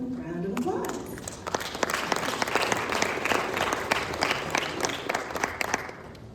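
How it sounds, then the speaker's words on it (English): Audience applause for the members of a marketing panel at a business event, clapping swelling up after a brief voice at the start and holding steady and fairly loud to the end. "Let's give them a round of applause."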